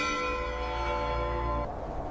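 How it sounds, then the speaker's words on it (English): A single tolling bell in a snowy, war-torn setting, its long resonant hum sustaining steadily before fading, heard alone without voices. "And somewhere, a bell rang"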